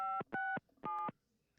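Keypad dialing tones from a telephone in the Nancy Drew video game, three clear steady beeps in quick succession, close and loud with short gaps and no talk.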